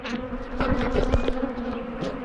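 Angry honey bees swarm around their hives in a dense, steady buzz, many insects droning close by with individual bees zipping past the ear.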